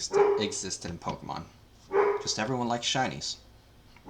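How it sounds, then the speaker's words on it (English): A pet dog barks and yips repeatedly in the background while someone talks over it continuously, the barks fairly close and mixed under his voice. "sorry about my dog, she's just going off"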